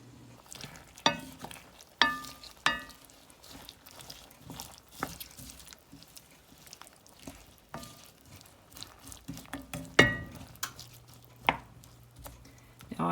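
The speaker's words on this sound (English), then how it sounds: "I'm going to be chopping up a little fresh broccoli from the garden as well" A knife chops fresh garden broccoli on a board in irregular sharp strikes, close and fairly loud, with a soft sizzle from a pan in the background.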